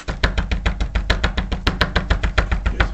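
A knife chops thyme herbs on a cutting board in a fast, steady rhythm of close, crisp strokes, roughly six per second, with no talk.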